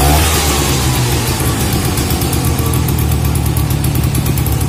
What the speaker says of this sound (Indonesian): Nah ini guys, langsung nyala guys mesinnya.